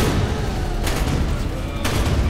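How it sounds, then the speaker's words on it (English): Rocket explosions from the video game Rise of the Triad, heard as dense, continuous booming gunfire with two sharper bursts at roughly one-second intervals, loud and unbroken throughout. "The explosion radius on these rockets is so pitiful."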